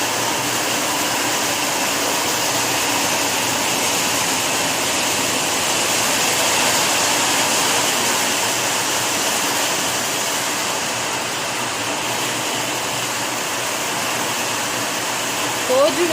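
Heavy rain pours down in a steady, dense hiss and roar that stays loud and even from start to finish, with no clear breaks.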